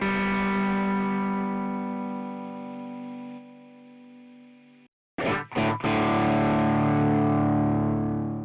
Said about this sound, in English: The tube screamer after the amp sims sounds really terrible. It sounds almost fuzz-like, but with a really harsh treble.